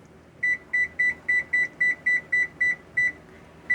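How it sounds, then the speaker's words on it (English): A kitchen timer, set while fried bread cooks, beeps about twelve times in a steady, rapid rhythm of short, bright electronic tones, close and clear, with no talking. "So we're going to set the timer."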